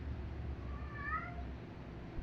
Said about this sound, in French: si vous entendez des miaulements, c'est ma chatte en fait